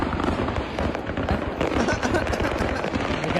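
Fireworks cargo burns aboard a truck on an interstate, setting off a dense, continuous crackle of rapid popping bangs, loud and close, with voices talking underneath.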